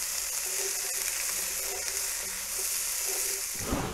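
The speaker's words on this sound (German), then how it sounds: "Unsere Paprika. Und unsere Bohnen. Und das Ganze braten wir uns jetzt erstmal schön an." Peppers and beans frying in a pan for chili con pulled pork tacos give a steady, close, continuous sizzle with no talking, and a brief stirring clatter comes near the end.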